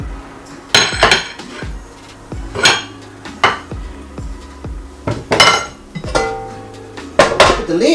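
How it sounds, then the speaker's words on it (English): A metal lid goes back onto a pot of steamed broccoli with repeated close clanks and clinks of cookware and utensils, scattered irregularly across several seconds. "Put the lid back on so the bugs won't get on my stuff."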